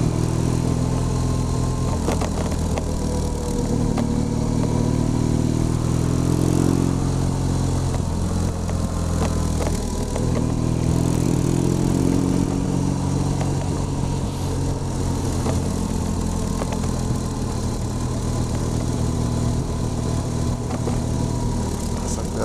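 A motorcycle rides a Swiss mountain pass on the Pragelpass road toward Klöntalersee, its steady engine drone loud and close throughout with gear and throttle shifts and no talk.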